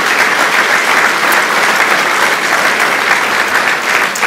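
Sustained applause from a large crowd at a Law and Justice (PiS) party convention in Radom, Poland, a dense steady clatter of many hands clapping without pause, loud and even throughout.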